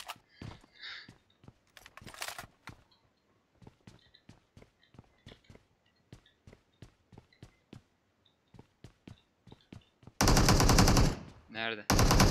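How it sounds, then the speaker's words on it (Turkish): Gunfire in the mobile battle royale game PUBG Mobile: a long run of sharp single shots at a steady rhythm, then a dense loud burst of rapid automatic fire near the end, with no speech. "Ya sen sıkıyorsun, başkası sıkıyor sanıyorum."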